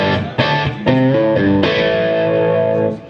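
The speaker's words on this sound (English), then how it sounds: "that's the same clean channel but it's all nice and warm and headroomy before." Peavey guitar amp on its clean channel, cranked volume with the master pulled back for a warm, slightly driven tone; sustained chords with a few attacks ring out loud and alone, then fade at the end.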